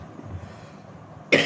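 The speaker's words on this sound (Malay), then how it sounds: "Batuk pula." A single sharp cough bursts out near the end after quiet room tone, loud and close.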